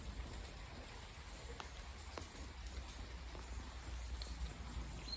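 Soft, steady patter of light rain falling in the trees in the Peak District countryside, faint and even with no talk over it.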